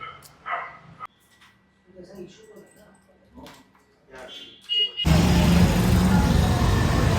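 A dog, the father of a litter of brown puppies, barks a few times close by amid people talking, followed by loud, noisy commotion.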